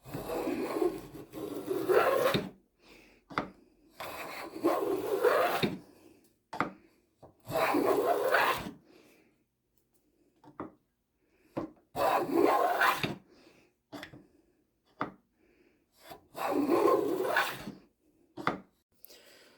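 A Record 043 plough plane shaving wood: about six crisp rasping strokes of roughly two seconds each, separated by short pauses and small knocks, close and clear with no talking.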